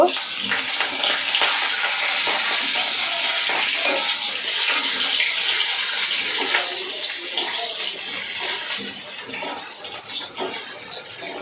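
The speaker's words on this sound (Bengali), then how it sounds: "কাঁচামরিচগুলো ভালোভাবে ভেজে নেব" Loud, continuous sizzling and crackling of green chillies and whole cumin frying in hot oil, steady for several seconds before easing slightly near the end.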